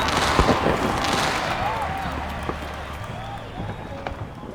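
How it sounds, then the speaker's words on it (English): Fireworks pop and crackle in the video game Love and DeepSpace, scattered bursts over a soft musical bed, moderately distant and fading through the moment. "The fireworks become increasingly more magnificent and dazzling"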